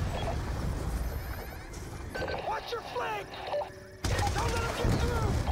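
An anti-aircraft gun firing in the Call of Duty Black Ops 2 campaign, with dense rapid bursts of game gunfire and explosions that cut in and out, someone talking over the action.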